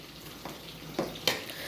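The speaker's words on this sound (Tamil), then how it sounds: "நல்லா இந்த மாதிரி நல்லா கிளறி விடணும்" Chicken fried rice sizzles softly in a hot pan, with three quick scraping stirs of the spatula standing out over the steady frying hiss.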